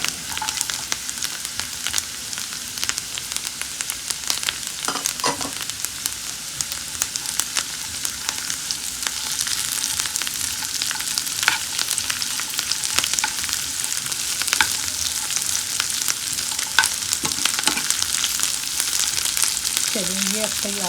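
Raisins fry and get stirred in hot ghee in a pan while making sheer khurma, a vermicelli pudding for Eid: a steady bright sizzle runs throughout with occasional scraping stirs, close and fairly loud, no talk.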